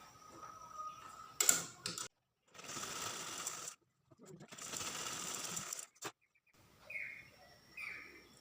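A sewing machine stitches a lining blouse in bursts of steady mechanical whirring, several short runs separated by pauses, close and moderately loud, with no talking over it.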